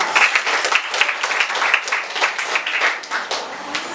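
A school debate audience applauding a panel member's introduction, dense steady clapping from many hands in a room, loud and close for the full few seconds.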